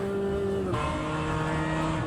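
BMW M2 CS engine in a racing simulator game, a steady droning engine note that shifts pitch partway through, moderately loud with no talk.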